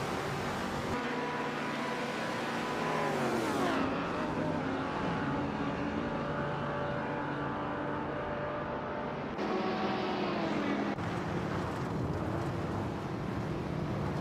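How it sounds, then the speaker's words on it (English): Race cars in a nonstop racing video game scream past with sustained, whining engine tones that rise and fall as the cars shift and overtake, loud and continuous with no talk. "Bot Yama Priest is making a charge, passing 3 cars in quick succession to reach the 5th place."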